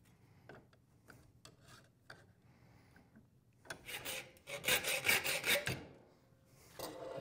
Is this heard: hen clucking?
no